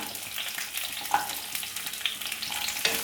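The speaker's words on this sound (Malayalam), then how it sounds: "ഇതാദ്യം ഒന്ന് നമുക്കൊന്ന് വഴറ്റിയെടുക്കാം ചെറുതായിട്ടൊന്ന്" Okra, green chilli and shallots sautéing in a pan for instant sambar, a soft steady sizzle with light stirring scrapes and a couple of small clinks, fairly quiet and free of speech.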